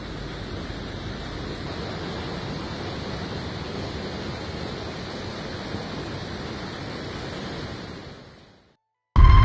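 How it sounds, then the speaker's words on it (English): Heavy, continuous roar of a glacier-fed, snow-fed river rushing nearby on a Himalayan mountain expedition, loud and steady before cutting out near the end. "Here is a snow-fed river and it is a real challenge to cross."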